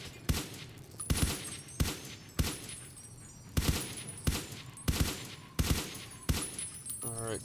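Gunfire from a modded gun shooting bottles in Fallout: New Vegas, about nine sharp, evenly spaced shots with short ringing tails between them, moderately loud with no voices over them.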